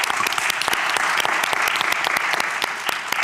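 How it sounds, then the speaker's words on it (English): Steady applause from a conference audience at a panel on inequalities of antimicrobial resistance in Europe, dense clapping sustained evenly for several seconds with no speech over it. "I think this is a round of applause."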